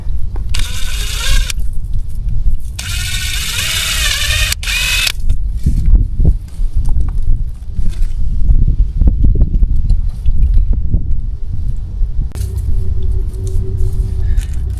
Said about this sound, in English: That's a countersink bit, but let's do this thing.